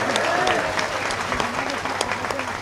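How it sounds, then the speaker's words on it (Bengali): A crowd at a political rally claps steadily and densely for a few seconds, the dense applause loud and close with a faint voice underneath. "সেই সঙ্গে ইউনূস সাহেবকে একটা হাততালি দিয়ে ধন্যবাদ দেন।"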